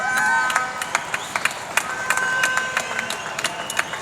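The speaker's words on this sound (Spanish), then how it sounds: "El aplauso es para todos ustedes" Crowd at a water protest rally on an avenue applauding and cheering, dense clapping with sharp individual claps and whistles rising above a loud continuous roar.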